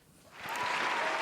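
Applause on a podcast set swells from quiet into a steady, close wash of clapping that lasts about a second.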